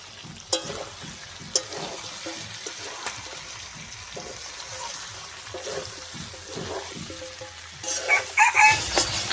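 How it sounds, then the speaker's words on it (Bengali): Fried potato and jackfruit stirred into chicken frying in oil, a steady sizzle with rhythmic spoon scrapes and knocks against the pan, and a rooster crowing and clucking in the background near the end. "ভেজে রাখা আলু আর এঁচোড়টা দিয়ে দিচ্ছি"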